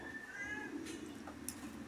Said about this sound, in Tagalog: Nandito na rin yung pusa